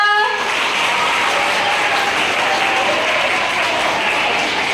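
An audience at a small Rudrabhishek ceremony in Thane gives loud, sustained applause, a steady wash of clapping from many hands.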